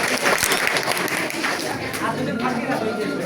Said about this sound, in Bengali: সবাই জোরে হাত তালি দেব।